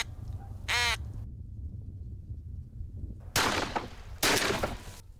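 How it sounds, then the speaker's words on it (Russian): Crows cawing, then two loud, broad gunshot blasts with lingering echo, about a second apart, outdoors in the Far Eastern Marine Reserve as poachers shoot at birds. "устроили стрельбу по птицам на территории Дальневосточного морского заповедника"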